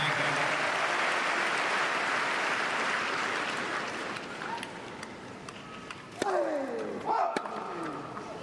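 A crowd at a men's singles wheelchair tennis bronze match applauds and cheers a saved break point. The dense roar of clapping fills the first few seconds, then thins into scattered claps and court noises.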